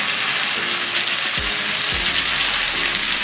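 Coconut, onion and one tomato frying in hot oil for a beans and egg curry, giving a steady broadband sizzle throughout with a few soft low stirring thuds.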